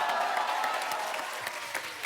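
A television comedy show's studio audience claps steadily, a bright, even wash of many hands that gradually softens, with no talk over it.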